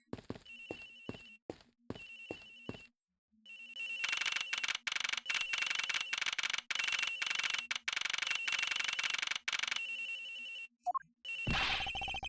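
An electronic phone ringtone rings repeatedly in the Ace Attorney video game, with rapid trilling bursts that start in short pulses and then continue steadily, loud and alone, ending with a brief sound effect.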